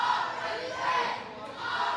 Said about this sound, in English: This crowd getting behind their boy Hunter Law.